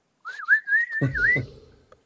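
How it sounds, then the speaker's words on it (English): One person whistles a clear, close, wavering tone for just over a second before a game between the Freebooters and the Sawteeth, with a faint thud as it ends. "When you're ready, give her a whistle."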